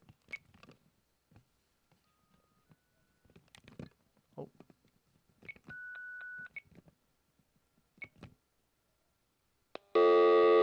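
A studio phone line on a live radio call-in show gives out a string of short dialing tones and beeps, then a steady tone and a loud buzzing ring at the end, with scattered soft clicks and handling noises around them.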